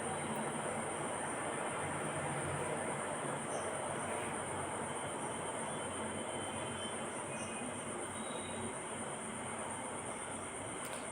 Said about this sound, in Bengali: এর জন্য কুচানো পেঁয়াজকে ওই তেলের মধ্যেই আমি দিয়ে দিলাম, দিয়ে ভালোভাবে একটু ভেজে নেব লাল লাল করে।